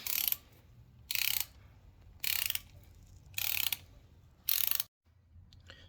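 Screws on the clutch cover of a 1986 Yamaha Radian YX600 are being removed, giving five evenly spaced bursts of close, bright ratcheting with short quiet gaps between them.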